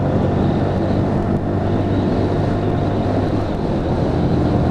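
Lexmoto Michigan motorcycle engine pulling steadily after a downshift on an open road, a continuous loud drone heavily mixed with wind rush over the microphone, with no speech.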